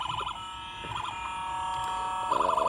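A diecast Washington DC Metro police model toy's electronic siren cycles through warbling tones, thin and buzzy, loud and close with no voices.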